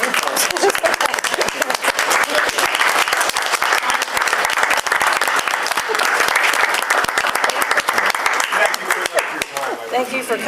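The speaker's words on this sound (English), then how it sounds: "How about a standing round of applause for the police department and their hard work?" A council meeting room gives a standing round of applause for the police department. Dense, steady clapping from many hands carries evenly through the whole stretch, with a few voices mixed in.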